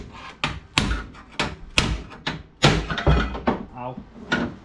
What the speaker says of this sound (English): I have a hammer and chisel here now